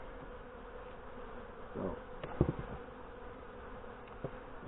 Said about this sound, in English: Good number of bees on the bottom of the lid.